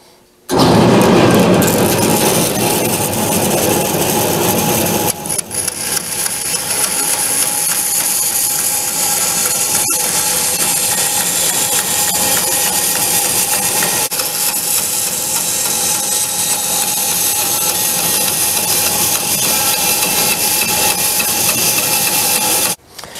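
Bandsaw cutting wood stock for a rocking chair arm, a loud continuous mechanical whir with rattling blade noise, steady for over twenty seconds with brief dips as the cut shifts, no talking.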